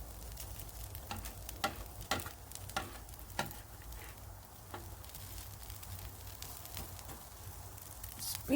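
Hash browns sizzling and crisping on a Blackstone 22-inch E Series electric griddle, a steady soft frying hiss with occasional faint pops and a few light scraping ticks, no talking.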